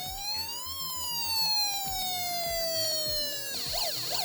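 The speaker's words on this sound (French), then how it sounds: "Alors le deuxième bouton, c'est la sirène d'ambulance." An ambulance siren tone from a DIY 4-tone siren module, an electronic pitch that rises then slowly glides down in a long sweep, switching to quick warbling sweeps near the end, loud and near.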